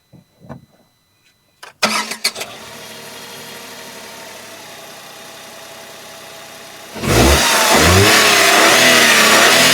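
Tata Tigor XM 3-cylinder sedan engine cranks and fires after a few small clicks, settling into a steady idle, then the revs rise sharply to a loud, sustained run close to the microphone.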